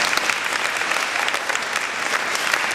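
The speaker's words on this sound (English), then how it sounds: "How about a big round of applause for the National Youth Development Council?" A crowd gives a round of applause for a national youth development council at a youth public health event: dense, even clapping that stays loud and steady throughout.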